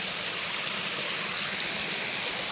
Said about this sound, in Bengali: এত পরিমাণে জল ঢুকে যাচ্ছে বাড়িতে।